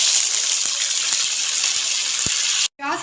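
Onion paste added to a cup of hot oil in a wok, a loud steady sizzling hiss that continues evenly before cutting off abruptly near the end, with no talking.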